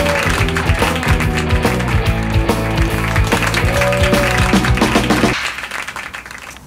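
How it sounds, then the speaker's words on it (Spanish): An audience at a public speaking club event applauds its guest speakers, a dense, loud, steady patter of many hands with music-like tones mixed in, fading out toward the end. "Un fuerte aplauso para ellos."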